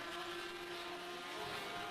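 Racing cars at Snetterton circuit, 750 Motor Club event, revving as the race starts: a dense, steady engine roar with a sustained whine, loud and continuous throughout, no talk.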